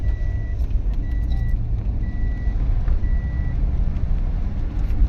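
A car pulls in and parks at the Karla hill temple, its engine idling low under repeated reversing beeps, with faint jingles over the rumble.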